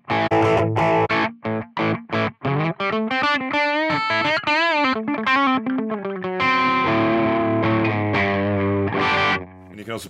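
A crunchy, distorted electric guitar through a Zoom G6 multi-effects processor plays chords and bending lead notes, sustained and gritty, with short gaps between phrases.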